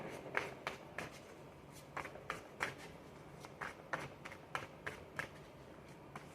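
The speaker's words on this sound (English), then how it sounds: "Sometimes these cards can be a little loud upon shuffling" Tarot cards being shuffled in quick riffling bursts, a dozen or so crisp papery flutters spaced irregularly, close and fairly quiet.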